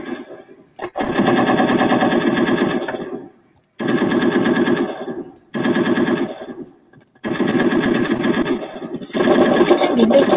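Unsilenced automatic gunfire in the video game Red Crucible 3, loud rapid bursts in four or five long strings separated by brief pauses.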